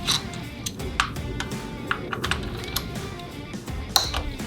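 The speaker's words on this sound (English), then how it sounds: "I'll go ahead and remove these coil pack bolts" Coil pack bolts come out of a Toyota 4Runner engine during a valve cover replacement, a series of sharp metallic clicks and ratchet ticks at irregular intervals over quiet background, close to the microphone.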